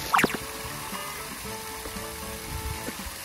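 Well water drawn from underground flows in a steady, soft trickling stream, quiet and continuous, with a brief sharp splash near the start.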